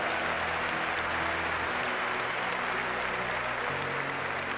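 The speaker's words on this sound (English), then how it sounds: "Give her a round of applause" Applause from a motivational seminar crowd forms a steady, dense wash of clapping that holds at an even level throughout, with a low hum beneath.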